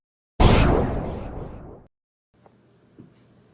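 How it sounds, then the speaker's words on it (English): A single loud gunshot sound effect, a sharp blast decaying over about a second and a half, then near silence with a couple of faint taps. "Gunshot."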